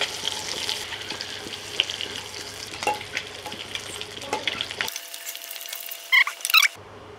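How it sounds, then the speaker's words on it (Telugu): Boiled eggs fry lightly in oil in a pan, a soft continuous sizzle with stirring scrapes, then a pause and a few sharp clinks near the end. "నేను ఉడకపెట్టి గంటలు పెట్టుకున్న కోడిగుడ్లని లైట్గా ఫ్రై చేస్తున్నా"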